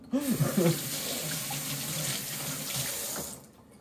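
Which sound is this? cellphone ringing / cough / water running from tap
water running from tap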